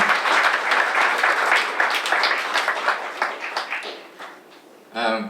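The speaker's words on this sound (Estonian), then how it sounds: "Aplaus!" Concert audience applauding a big band, dense clapping that thins out and tapers toward the end before a voice begins speaking.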